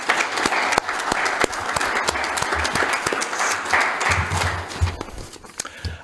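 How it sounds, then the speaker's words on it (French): Audience applause fills a public municipal meeting in Edmundston, a dense, steady crowd clapping that holds at full strength from start to finish, close and loud. "Je pense qu'on peut leur donner une bonne main d'applaudissements."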